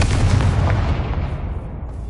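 A Confringo blasting spell exploding in the Hogwarts Legacy video game, a loud deep boom right at the start that rumbles and fades over about two seconds.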